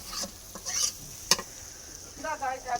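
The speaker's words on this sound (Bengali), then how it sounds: "মাছ বোনা করতেছে" Fish fries on a village cooking stove with soft, uneven sizzling and crackling, broken by a few sharp pops and light stirring scrapes.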